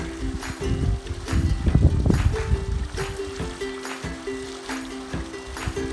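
A small waterfall at an outdoor swimming hole gives a steady, moderate rush of falling water, mixed with a breezy rustle and low rumble.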